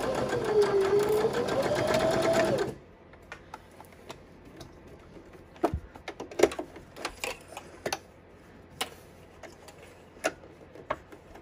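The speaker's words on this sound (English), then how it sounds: "start stitching again from this quilting clip all the way around the outside" A sewing machine runs in one steady, loud burst for under three seconds while stitching around the outside of a quilted Christmas stocking, then stops, leaving sparse clicks and light handling noises.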